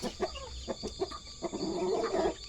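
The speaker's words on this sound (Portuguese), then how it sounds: "Uns pintinhos que nasceu ali, galera." Chickens cluck softly near newly hatched chicks in a farm setting, a string of quiet, short clucks and peeps at a moderate distance over low background hiss.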